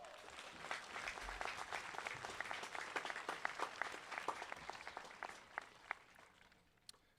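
A high school graduation audience applauding, a dense, sustained wash of many hands clapping at a distance, fairly faint, tapering off toward the end.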